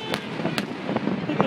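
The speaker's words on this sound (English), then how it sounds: "That's how you watch the fireworks" Fireworks crack and pop in a crowded night scene, seen from the top of a Ferris wheel at Cedar Point, with sharp reports over a busy crowd-like background.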